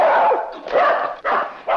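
A dog barks in a short run of loud, close yaps and woofs, three or four bursts with brief gaps between them and no talk over them.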